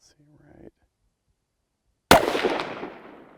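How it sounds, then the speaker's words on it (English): A single sharp crack of a .308 rifle firing a tracer round at a rock outdoors, followed by a decaying ringing tail; a brief voice is heard just before the shot. "I'm going to shoot a rock here in the foreground."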